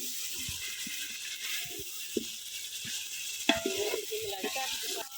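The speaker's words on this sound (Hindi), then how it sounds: "और अब हम इसे मिक्स करेंगे" Chicken and capsicum are stirred in a frying pan, with soft scraping and occasional utensil clicks over a light, constant sizzle, plus one sharper knock midway.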